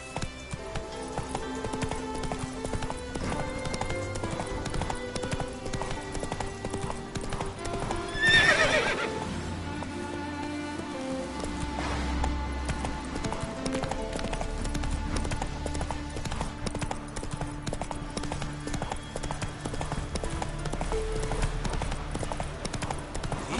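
A horse gallops in the video game The Witcher 3: rhythmic hoofbeats clip-clop steadily throughout, one loud neigh breaks in partway through, and low game music runs underneath.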